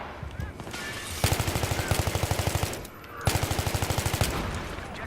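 Automatic gunfire in Battlefield 3 comes in two long, loud bursts of rapid, evenly spaced shots, separated by a short lull.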